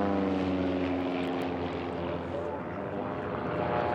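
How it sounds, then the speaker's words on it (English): Race biplanes roaring past a pylon at an air racing championship, a loud, steady propeller-engine drone with a slight pitch drop as they sweep by close to the microphone. "Listen to those planes go by that pylon."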